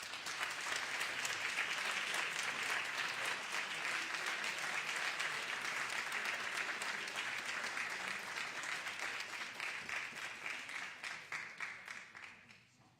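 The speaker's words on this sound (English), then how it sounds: "give them a warm round of applause" Sustained audience applause fills the Senate chamber on the floor session, steady and dense for about ten seconds before thinning into scattered claps and fading out.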